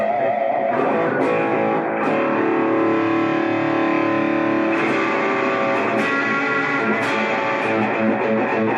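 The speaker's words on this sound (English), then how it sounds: "But here's some delay with distortion." Electric guitar played through a mini amp under $100 with delay and distortion, sustained loud overdriven chords ringing out with echoing repeats and a few sharp pick attacks, no voices.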